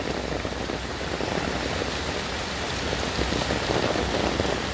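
Heavy rain from Hurricane Fiona in Puerto Rico pours down steadily, a dense continuous hiss and patter of drops drumming on surfaces with no voices.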